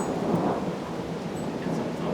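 Thunder rumbles during a storm, a continuous low, broad roll heard at a moderate distance with a hiss like rain throughout and no voices.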